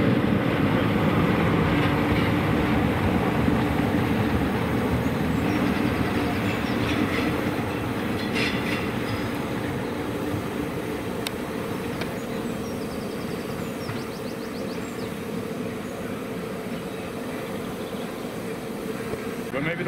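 A train passes nearby with a steady rumble and rhythmic clickety-clack of wheels on rails that fades gradually as it moves away, while people speak over it.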